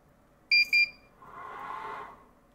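WeCreat Vision laser engraver powering up: two short, loud electronic beeps in quick succession, followed by a softer whirring hum of the machine starting.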